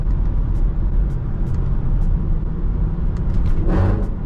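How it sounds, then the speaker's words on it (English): A car engine rumbles steadily at close range through a fourth gear downshift, ending in a short, bright burst of exhaust noise near the finish. "that fourth gear downshift is crazy"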